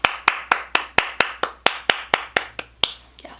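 One person claps alone, about a dozen sharp, evenly spaced claps close up at a steady, brisk rhythm, then stops with a brief faint rustle at the end.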